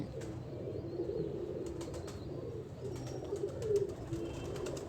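Pigeons cooing and shuffling beneath a trap, with soft low coos running steadily throughout and occasional brief wing flutters or scrapes, fairly close and moderately quiet.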